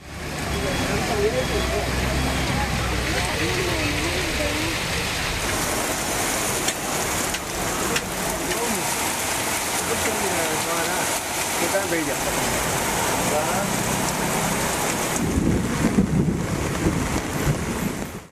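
Heavy rain driven by wind pours down in Tamil Nadu, a dense continuous roar with gusty rumbles, while a person talks over it throughout.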